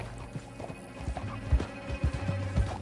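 A horse's hooves clip-clop at a riding pace in the Red Dead Redemption 2 video game, irregular thuds over a low hum, moderately close and without speech.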